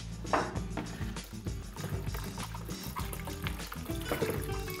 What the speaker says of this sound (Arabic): وهلا بدنا نغسل شوية فواكه.